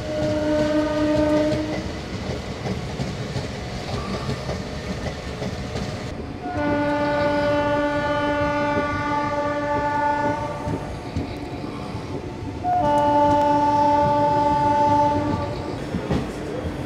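The 02839 Shalimar–Puri special fare passenger train rolls into Puri station, sounding three long loud horn blasts over the rumble and clatter of the carriages, close by with no speech.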